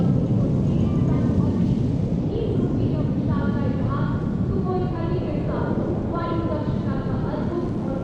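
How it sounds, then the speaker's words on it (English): Fighter jets fly overhead in formation at the Republic Day parade, a continuous loud, rumbling roar under a commentator's voice throughout. "And now time for faster moves with pure fighter formations."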